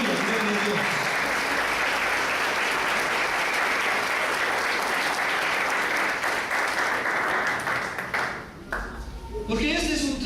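A church congregation applauds in a loud, sustained wash of clapping. It thins briefly near the end as a voice briefly cuts in.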